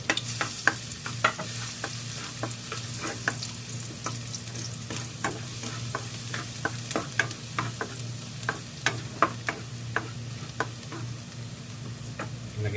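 Garlic frying in coconut oil in a pan for chicken curry: a steady close sizzle with frequent sharp spatters and utensil clicks, accompanied by a low hum, continuous and fairly loud with no talking.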